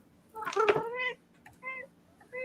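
A cat meows nearby, starting with a long drawn-out, wavering call and then giving two shorter, quieter meows with pauses between them, over a faint background hum.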